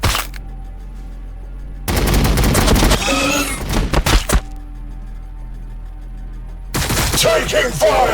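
Bursts of gunfire in Warhammer 40,000: Battlesector, loud rapid volleys coming in two separated clusters with booming cracks, quiet gaps between them, then another burst at the end.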